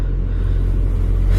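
A car driving toward a cinema in Vienna in winter, its engine giving a steady low interior rumble, loud and continuous with no talk.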